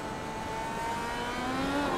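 A Formula Renault race car's engine in iRacing holds a steady, rising rev, a loud and near whine that climbs slightly in pitch through the two seconds with no talk over it.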